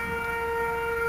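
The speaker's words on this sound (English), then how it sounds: "I know, it's an air raid siren, so it's a test like for an attack from the air." An air raid siren test in Taichung, Taiwan, in 2011, a steady loud wailing tone with layered harmonics, held unchanged through the short stretch.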